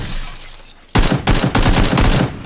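A quick string of gunshots in an online shooter game, loud and close, with several sharp cracks in rapid succession after a quiet moment.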